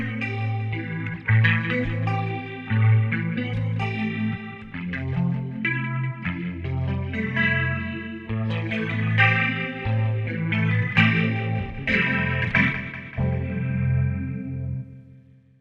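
A clean Shreddage 3 Stratus Kontakt virtual electric guitar plays a flowing melodic passage with chorus shimmer and a touch of echo, moderately loud and alone.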